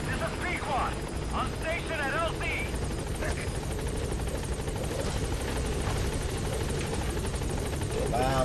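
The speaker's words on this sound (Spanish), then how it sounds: "Llegando va el helicóptero." Helicopter arriving in the Metal Gear Solid V game, a steady rotor and engine drone running throughout at an even level, with game sounds and someone talking over it.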